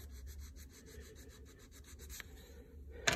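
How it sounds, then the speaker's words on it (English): Sandpaper rubbed along the edge of a wooden 2x4, a series of soft rapid scratchy strokes close by, ending with a sharper knock. "You just kind of put it on its edge and sand it down just a little bit."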